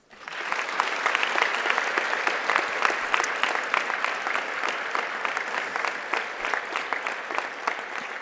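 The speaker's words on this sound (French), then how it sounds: "c'est le moment de leur dire merci en les applaudissant avec toute votre énergie et votre cœur" Students in a large hall applaud at a school Model UN opening ceremony, a steady dense wash of many hands clapping that swells in and holds strongly throughout.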